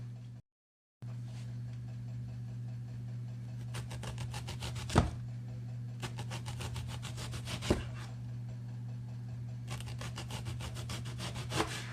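Thin slicing of a large red onion on a mandolin slicer, a steady run of rapid rasping strokes in several bursts with a couple of sharper knocks, close up, over a constant low hum and with no talking.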